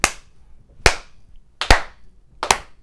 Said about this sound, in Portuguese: Palmas lentas para mim mesma.